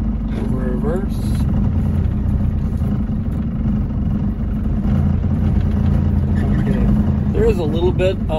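A Land Rover Defender 110 with a Tdi diesel engine reverses, its low engine drone and drivetrain rumble steady and close, while someone talks over the vehicle noise.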